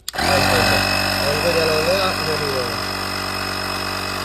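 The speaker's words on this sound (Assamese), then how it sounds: "এতিয়া এটা চকা কমপ্লিট হাৱা দিবলৈ কিমান সময় লাগে চাওক" A digital tyre inflator set to 36 PSI pumps air into a car wheel, starting abruptly and holding a loud, steady motorized drone with a buzzing whine throughout, close and alone.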